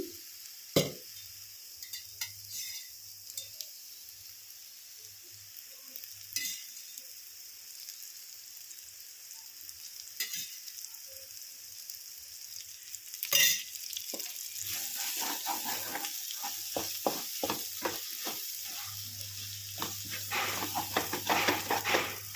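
Ivy gourd frying in oil for an onion masala curry, a low, quiet sizzle at first, then louder stirring scrapes and clatter against the pan as the frying intensifies toward the end.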